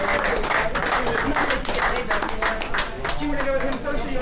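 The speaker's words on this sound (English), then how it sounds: "give him a big round of applause." An audience on a poker cruise applauds a poker player with dense, continuous clapping that stays loud and steady throughout, with no clear gaps.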